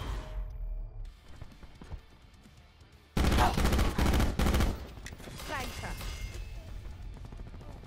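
Loud sustained automatic gunfire in Call of Duty: Black Ops 4, a dense roaring burst of rapid shots after quieter game noise, with players talking over the action.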